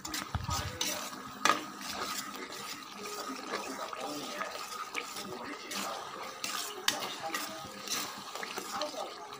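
Mango rice being stirred and mixed in a pan, with scraping clinks of a spoon against metal, a few sharper knocks, and faint background noise between strokes.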